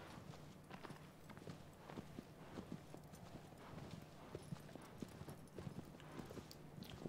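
Horse hooves galloping in Shadow of the Colossus, a steady rapid clip-clop of hoofbeats on ground, fairly quiet and continuous, with the horse ridden across open terrain and a faint game ambience behind.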